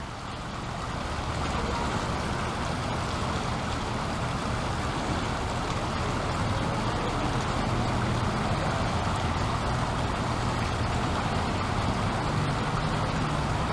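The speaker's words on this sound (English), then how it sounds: "And just the sound of that water is so relaxing." Clear creek water tumbling over a small waterfall in a wooded nature sanctuary, a steady broadband rush that stays even and close throughout, with no voices.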